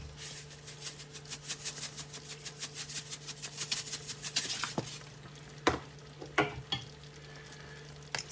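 Cep mushrooms cooking in a pan over medium-low heat, stirred in a quick regular rhythm of soft scraping strokes over a steady sizzle, then a few louder clanks as the stirring stops.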